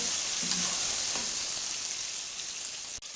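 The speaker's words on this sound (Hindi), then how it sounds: "अच्छे तरीके से फ्राई करना है गोश्त" Boiled mutton frying in a pan, a steady close hiss and crackle of hot oil with faint stirring scrapes throughout.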